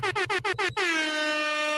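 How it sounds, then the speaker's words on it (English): Air horn blasts: five short, rapid honks in quick succession, then one long sustained blare lasting about a second, loud and up close. "Air horns"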